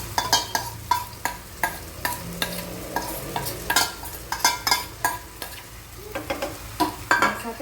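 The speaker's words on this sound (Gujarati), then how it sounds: "જે આપણે પાલકની ગ્રેવી તૈયાર કરેલી હતી એ આપણે એડ કરી દેવાની છે." Spinach gravy being stirred into frying masala in a pan for palak paneer, with repeated scraping stirs at an uneven rhythm over a close, constant sizzle, and no talking.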